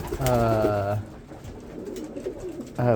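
Pigeons coo in a breeding loft, a close, loud burst of throaty cooing at the start and another at the end, with softer rustling and scattered cooing between.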